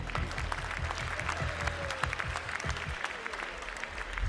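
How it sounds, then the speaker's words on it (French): An audience at a Tarentaise cattle show claps steadily and warmly, with sustained applause from a crowd throughout. "je vous demanderai également de l'applaudir bien fort"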